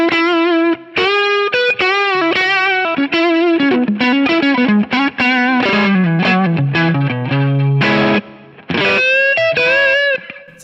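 An electric guitar plays through a Kingsley Minstrel pedal in its third mode with the gain lowered, giving loud, sustained melodic lines with light overdrive and a few brief pauses between phrases.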